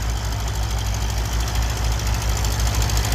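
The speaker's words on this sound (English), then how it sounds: "I don't know what tractor this is. It looks like an N series." An old tractor engine runs while plowing at a plow day, giving a steady, rhythmic low thumping knock throughout at close range.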